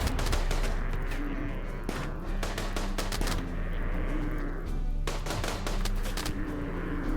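Grenade blasts and gunfire in RimWorld combat come as rapid bursts of sharp game shots and explosions. They repeat densely and loudly throughout, with brief gaps between volleys.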